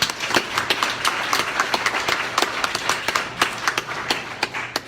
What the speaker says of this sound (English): Let's give one more round of applause for all the candidates